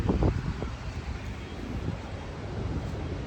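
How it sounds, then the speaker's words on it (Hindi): Wind gusts and buffets outdoors at a stop on a road trip from Bangalore to Pondicherry, a steady low roar with microphone rumble and a few louder thumps at the start, no speech heard. "हवा चल रहा है,"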